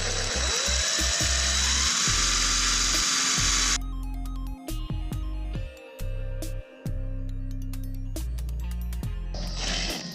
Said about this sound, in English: So we're gonna go ahead and drill that out so we can put a new screw in.